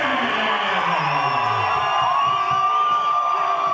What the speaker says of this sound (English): Listen to this raucous crowd, Linda.